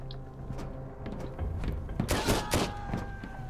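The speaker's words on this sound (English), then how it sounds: "They have a machine gun." Enemy machine gun fire in the survival game Sunkenland during a fortress assault: a burst of rapid, thumping shots builds from a quieter start, with metallic impacts and booms, loudest toward the end, and no talking.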